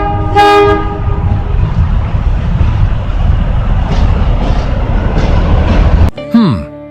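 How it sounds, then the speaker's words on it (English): A train horn blasts, then a loud, steady rumble of rolling rail cars with rhythmic clatter passes close by, ending abruptly. "It's a train."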